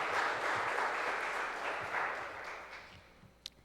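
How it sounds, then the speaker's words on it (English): A crowd claps steadily for a few seconds at a youth oratorical contest, a dense, even patter that slowly fades out with a few last scattered claps. "Round of applause for Senator Tina Muna Barnes."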